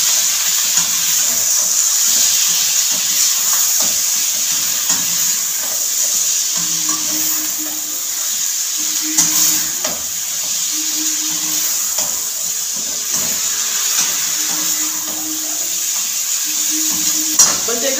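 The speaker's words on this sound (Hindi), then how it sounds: "अब मैं चिकन को इसमें थोड़ा सा भूनूंगी" Chicken sizzles and fries steadily in a pan for bhuna. The hiss is loud and continuous, with occasional stirring scrapes and a faint background hum. No one talks.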